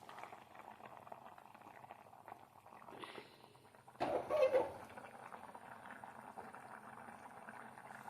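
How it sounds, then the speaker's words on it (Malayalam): A pot of fish curry bubbles and simmers steadily at moderate volume, with a brief louder burst of bubbling partway through. "അപ്പോൾ ഇത് തിളച്ച് വരട്ടെ"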